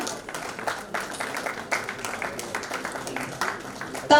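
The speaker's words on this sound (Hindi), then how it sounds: "तालियों में जोश आना चाहिए, आपकी अभिव्यक्ति का सशक्त माध्यम है तालियां" A crowd claps steadily in a room at an award certificate ceremony for nursing and paramedical institutes, a dense patter of applause with occasional louder bursts, moderately distant.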